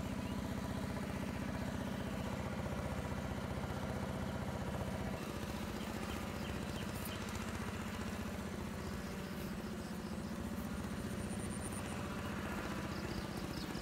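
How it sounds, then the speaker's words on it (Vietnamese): A motor engine runs loudly and steadily throughout at night during frog hunting, a constant low rumbling drone with a slight shift partway through. "Nổ máy tiếng hơi lớn. Có ồn các bạn thông cảm giùm mình ha."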